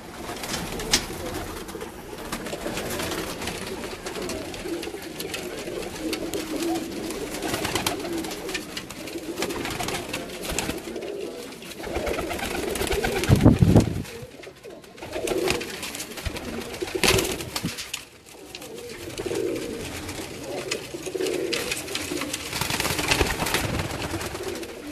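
Paired pigeons in a loft coo repeatedly, soft throaty calls overlapping in a constant murmur of several birds, close by, with a few louder flutters and bumps partway through.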